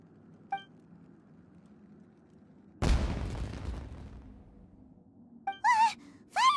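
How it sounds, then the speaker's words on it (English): An explosion like fireworks in the video game Genshin Impact: one sudden loud blast, then a decaying rumble lasting about a second. Brief character vocal sounds come before and after it. "Was that an explosion?"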